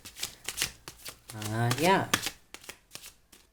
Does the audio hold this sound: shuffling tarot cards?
yes